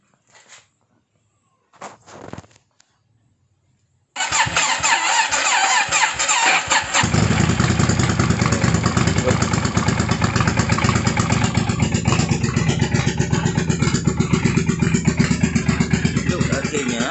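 A Yamaha Virago motorcycle with a freshly cleaned Harley-Davidson carburetor cranks briefly, then fires up loudly and settles into a steady, close idle that continues to the end.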